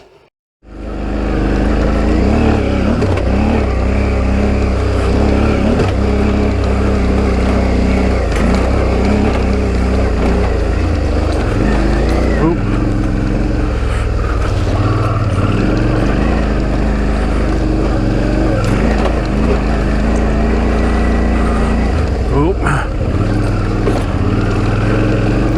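A Suzuki V-Strom DL650 motorcycle with an oversized front disc starts up and rides off, its engine droning loud and close without a break, with shifting pitch under steady wind and road noise.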